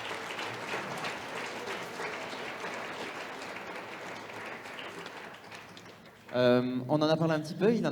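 An audience at a metaverse talk event applauds steadily for about six seconds, then the clapping fades as a speaker begins talking over the last of it.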